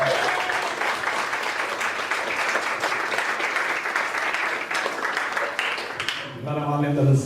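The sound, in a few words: audience applause at certificate ceremony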